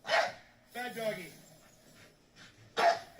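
A dog gives a few sharp barks close by, one burst at the start and another near the end, with a person talking to it in between.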